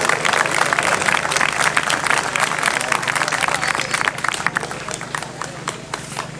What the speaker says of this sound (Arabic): صفقوا لي، يلا صفقوا